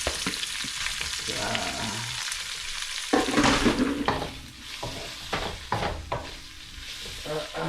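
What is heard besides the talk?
shrimp frying in a pan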